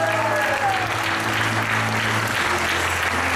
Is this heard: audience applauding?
yes